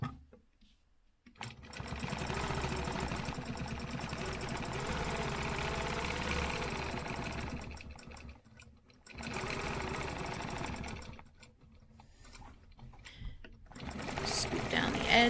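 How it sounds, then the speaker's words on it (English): A sewing machine stitches lines on a stencil project in steady close bursts, its rapid mechanical chatter running for several seconds, pausing, then starting again, fairly quiet overall. "I'm going to just come over here and stitch these lines real quick."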